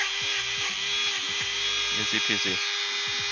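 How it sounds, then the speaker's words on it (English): A small handheld power sander grinds across a piece of foam, buzzing steadily under a voice, with short bursts of louder contact as it smooths out marks in the material. "See, I'm sanding it right out."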